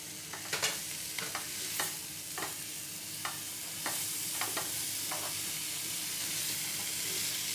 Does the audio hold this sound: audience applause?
no